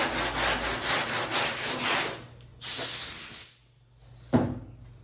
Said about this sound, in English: the sanding block is hitting the high spots